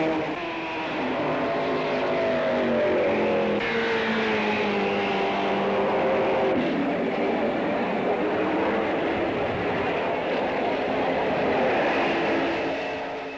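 1930s German Grand Prix race cars roar past in a sustained, loud engine drone whose pitch rises and falls as they race.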